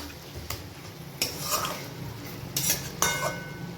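A spoon stirs aloo dum, potatoes in spiced gravy, in a pan, with a few sharp scrapes and clinks against the metal over a soft sizzle, close and fairly quiet, with no talking.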